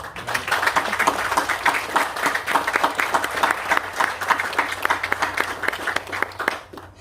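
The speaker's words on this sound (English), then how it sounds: "give you a round of applause for everything you did" An audience at a graduation ceremony applauds the parents, with a full, busy burst of many people clapping that carries on steadily before thinning out and stopping abruptly at the very end.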